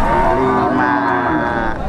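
A half-Brahman, half-Javanese cow moos at a livestock market, one loud, drawn-out, close call that lasts about two seconds and stands alone without talk.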